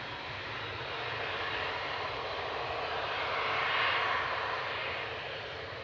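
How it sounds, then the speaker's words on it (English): An SAS Embraer E195 airliner on flight 539 from Copenhagen lands at Manchester Airport, a steady wide engine roar that swells slightly and then fades, heard at a distance with no voices. "SAS landing from Copenhagen, Embraer E195, SCRSS, flight 539"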